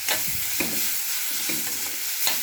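Dates, cleaned beforehand, are stirred and fried in a pan for healthy laddus, with soft sizzling under repeated scraping strokes of a spoon at a close, moderate level.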